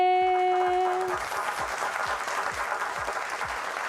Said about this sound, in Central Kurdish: پێی ئەڵێین پێنج و یەک چەپڵەی بەهێز